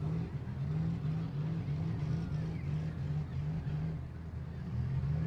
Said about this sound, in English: You hear a lot of working the throttle pretty hard.